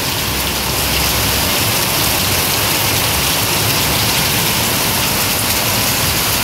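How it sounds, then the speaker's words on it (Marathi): Heavy rain falls on Deglur town in a loud, constant roar of splashing drops on nearby surfaces, unchanging from start to finish and free of talk. "अगदी मोठा पाऊस आहे।"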